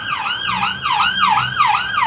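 An ambulance siren wails past on a Sheffield street, its rising and falling sweeps repeating about every half second, loud and close over steady road noise with no talk.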